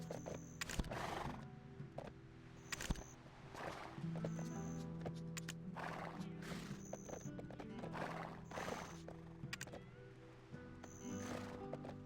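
A horse in the online game Black Desert, with repeated hoof clip-clops and a whinny over a looping low game soundtrack, several sharp hoof strikes spaced through the scene.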